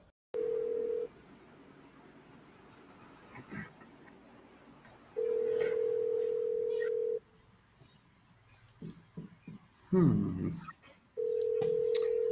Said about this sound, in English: pick up the phone and start dialing